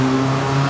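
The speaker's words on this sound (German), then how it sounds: "die ihren Auspuff hier anschneiden und immer nur auf extremst laut machen" A loud car with a modified, cut-open exhaust drones past nearby, a steady, throaty engine roar that fills the brief moment alone.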